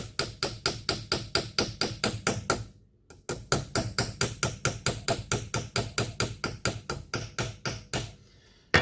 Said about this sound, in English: we get a hammer and we just tap him down